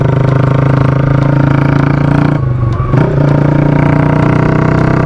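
A loud motorcycle engine with a modified exhaust roars steadily close by during a top-speed run, dips briefly as if shifting gears, then surges back to a strong, sustained rev.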